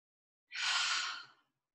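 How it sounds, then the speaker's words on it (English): A single deep, breathy exhalation during a yoga flow, close and soft, lasting about a second and fading out, alone in silence. "Three deep breaths here."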